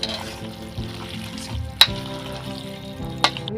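Spices, lemon juice and curry leaves for chicken curry are stirred in a pan, giving a low, faint crackle and scraping with two sharp clinks of the spoon against the pan.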